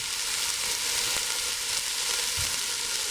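Mushrooms fry in a pan with avocado oil, giving off a steady, loud, close sizzle with no pauses and a few faint stirring bumps.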